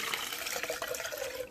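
Water from a tap runs steadily into a cup, measuring out 8 ounces, a continuous close splashing fill with no talking.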